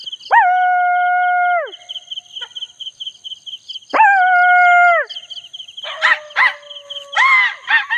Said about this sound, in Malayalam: ഇവിടെ മൊത്തം തെരുവ് നായ്ക്കളാണ്